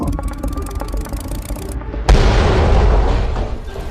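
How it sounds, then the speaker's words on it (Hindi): Rhythmic mechanical clatter of a helicopter gives way to a sudden loud explosion midway as it crashes, followed by a heavy, lingering rumble. "हेलीकॉप्टर क्रैश हो गया"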